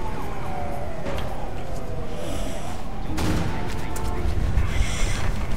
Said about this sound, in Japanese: パトカーが迫ってる。